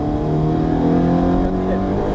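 Car accelerating on a race track with a low, steady engine drone and a slowly rising pitch, loud and close from inside the cabin, with an instructor's voice over it.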